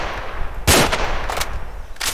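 A gun firing in Garry's Mod, a few sharp shots with noisy bursts spaced across a couple of seconds over low background hum.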